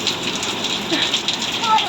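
Steady rain pours down outdoors in a continuous broadband hiss, with children's excited voices and shouts rising over it as they play in the rain.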